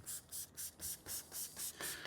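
Eight quick, evenly spaced bursts from a trigger sprayer hiss Chemical X iron remover onto a freshly rinsed car's bodywork, close and fairly quiet with no talking.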